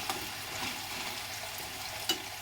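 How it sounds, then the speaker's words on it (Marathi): Potato pieces frying in hot oil in a home kitchen pan, a soft continuous sizzle with light crackles and a couple of brief stirring clicks. "तेल गरम झाल्यानंतर हा बटाटा टाकून घेतलेला आहे मी."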